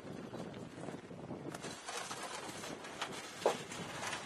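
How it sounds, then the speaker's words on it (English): Strong wind gusting steadily across an outdoor campsite around a folding firebox camp stove, a continuous broadband roar with a few sharper gust peaks and no talking. "the wind is kind of blowing pretty hard"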